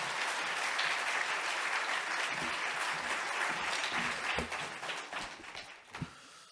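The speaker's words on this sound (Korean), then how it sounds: "박수로 모시겠습니다" A church congregation claps to welcome their pastor, with loud, sustained applause that fades out toward the end, leaving a few scattered claps and soft room sounds.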